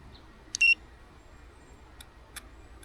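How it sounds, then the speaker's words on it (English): A short burst of high electronic beeps from a DJI drone's ESC, followed by two faint isolated beeps, in an otherwise quiet outdoor setting. "which is ESC beeping, and it's beeping away"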